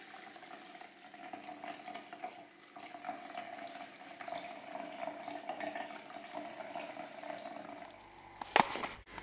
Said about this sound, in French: je vais ajouter de l'eau chaude